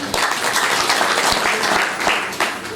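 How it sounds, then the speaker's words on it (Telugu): A church congregation at a prayer meeting claps together in a sustained, loud round of applause with distinct hand-clap peaks scattered through the steady wash. "కొట్టు చప్పట్లు"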